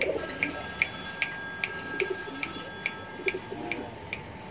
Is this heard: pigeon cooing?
yes